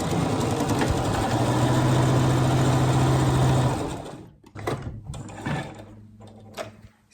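A sewing machine runs steadily and loudly up close while sewing jersey knickers, then stops, followed by a few softer handling and fabric sounds.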